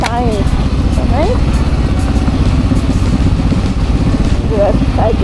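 A KTM 300 EXC two-stroke motorcycle engine runs steadily throughout at close range, a continuous buzzing drone with people talking over it.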